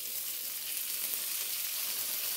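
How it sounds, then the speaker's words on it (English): Onions sauté in a pan, a steady, close hiss of frying with no breaks across a short stretch, heard alone. "We'll put the onions down there so we can saute them."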